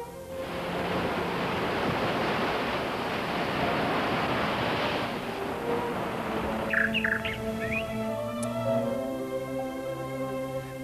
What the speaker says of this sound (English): Gentle waves ripple by the beach melodiously, and big waves beat upon the cliff at the shore.